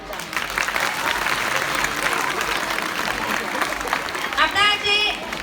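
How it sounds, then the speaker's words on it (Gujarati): Audience at a primary school annual day celebration applauds in a dense, continuous burst, with a voice speaking over the clapping near the end. "એ લોકો માટે બહુ જ જોરદાર તાળીઓ પાડો બધા"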